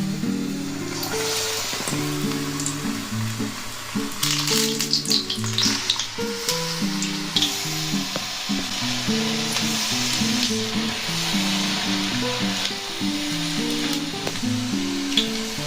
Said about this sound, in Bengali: আমি আস্তে আস্তে করে ভেজে নিচ্ছি